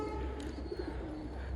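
Pet pigeons cooing at night in their coop, a short run of low, soft coos close by over a steady hum.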